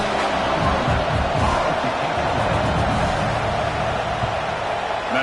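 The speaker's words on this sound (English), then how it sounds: "It's early, but this crowd is fired up. Listen to this noise here." A fired-up stadium crowd at an SMU versus Clemson college football game roars as a steady, dense wall of noise, with a faint excited shout rising from the mass of voices.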